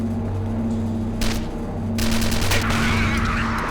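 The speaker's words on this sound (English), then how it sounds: "The only thing that kept me alive was this exploding crossbow." Shots and blasts from an exploding crossbow in the zombie shooter video game Instinct, loud bursts cracking over a constant low rumble and steady drone.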